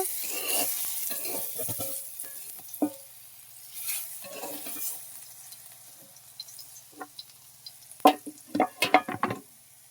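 Potatoes fry in hot oil in a home kitchen, giving a steady close sizzle, broken by the scrape of stirring and a run of sharp utensil clinks against the pan near the end.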